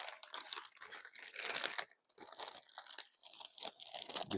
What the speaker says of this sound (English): So let's get everything packed away in this.